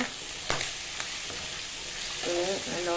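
Food frying in a pan of hot oil sizzles steadily, with a few sharp pops and splutters early on and a voice briefly audible toward the end.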